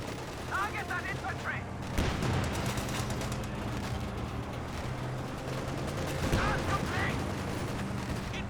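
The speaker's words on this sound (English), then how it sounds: "Looks like I got some explosions there. Kuhwagen gets machine gunned down and abandoned." Explosions and machine gun fire from a Company of Heroes 2 battle crackle in sharp, repeated bursts with a heavier blast near the middle, over continuous rumbling combat noise as someone talks throughout.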